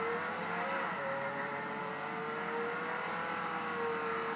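Car driving in the Roblox Jailbreak video game, with a steady synthetic engine hum and a faint whine that shifts slightly in pitch, heard alone with no talking.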